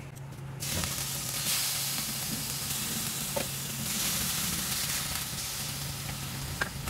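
Beef tapa with onions sizzles in a hot pan, Korean beef BBQ style, producing a steady crackling fry over a low background hum, with faint stirring taps now and then.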